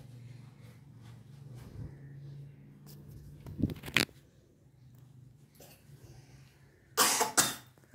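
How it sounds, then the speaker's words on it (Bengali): A child coughs a few short times nearby, with a sharper burst of coughing toward the end, amid quiet shuffling and rustling. "কাশি হয়েছে নাকি?"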